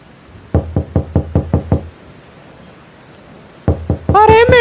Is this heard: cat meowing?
no